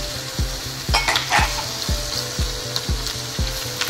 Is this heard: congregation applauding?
no